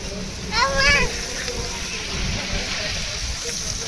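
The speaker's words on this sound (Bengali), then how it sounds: "ওই মা ইচ্ছে করে জলটা ঘাটছে। দেখো জল, ও তো জল ঘাটতে ওস্তাদ।" A child splashing water in a swimming pool at a summer getaway: soft sloshes and splatters, close by, under a brief burst of voices.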